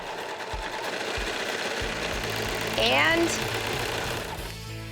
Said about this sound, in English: turn the serger back on